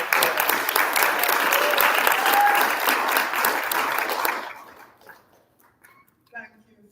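A conference audience at a plenary session on peace and healing applauds a speaker with dense, sustained clapping that fades out after about four seconds, leaving a few faint scattered sounds.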